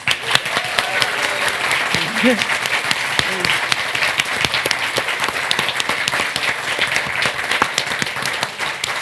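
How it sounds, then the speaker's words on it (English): Lively audience applause follows a conversation event, thick clapping with crisp individual claps standing out, and a few brief voices or cheers rising underneath partway through. "If you had fun today with Will, can we give him a round of applause, please?"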